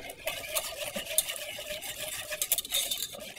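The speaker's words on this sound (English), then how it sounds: "you're going to take a wire whisk and we're going to stir" A wire whisk stirs a cobbler mixture in a pot, a steady scraping and clinking that keeps up through the moment, close and moderately loud, with no talking.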